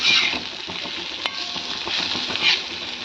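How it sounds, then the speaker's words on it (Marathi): Steady sizzling of potato slices stir-frying in a pan, with occasional scraping stirs cutting through the hiss. "बटाट्याचे जे काप होते केलेले ते टाकून घेतले आणि त्याला छान असं परतून घेतलं"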